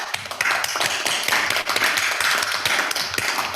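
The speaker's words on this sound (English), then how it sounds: "I would like to ask you to join me in applauding everyone for this great time" Participants at a closing presentation session clap together, a close, busy run of overlapping hand claps that stays fairly even from start to finish.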